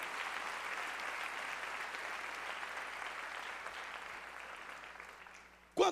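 Sustained applause from a church congregation during an evening worship service, steady and fairly loud throughout, ending with a brief sharp noise at the close.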